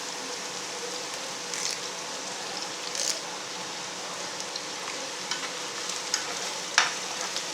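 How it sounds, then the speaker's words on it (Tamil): Curry leaves and chillies fry in hot oil for a spicy chicken liver masala, giving a steady, even sizzle throughout with a few faint stirring clicks and pops, close and alone. "கொஞ்சம் நேரம் இப்படி ஃப்ரை பண்ணிக்கிறேங்க."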